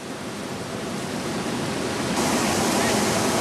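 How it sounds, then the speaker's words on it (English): River rapids at Sundown Falls on the Kern River roaring in a dense, unbroken rush during whitewater rafting, loud and steady and swelling slightly toward the end. "This is going to be our next rapid of the day."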